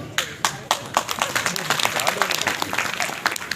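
Audience applause at a talk on avoiding social evils, a burst of sharp separate claps that thickens into steady clapping, with a voice speaking over it.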